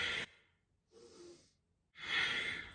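Full breaths during a short kundalini practice, close and soft: an exhale, a quieter inhale, then a longer, stronger breath, with no talking.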